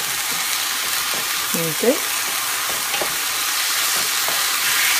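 Seafood sizzles steadily in a hot pan for Puerto Rican-style seafood rice, with stirring scrapes throughout and a voice speaking one brief word.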